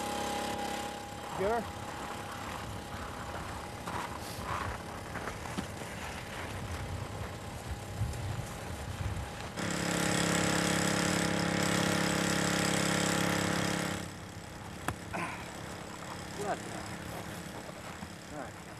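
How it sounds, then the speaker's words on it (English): An engine-driven fuel pump runs steadily while a Twin Otter plane's tank is filled for the flight to the South Pole in Antarctica. A louder, broad roaring surge stands out in the middle. Voices are heard over the running engine. "The pump works, and the otter's tank fills with what we hope will be enough to see us to the pole."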